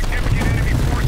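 Gunfire from the video game Call of Duty Black Ops Cold War: a dense, steady clatter of shots, loud and continuous over rumbling battle noise, with voices mixed underneath.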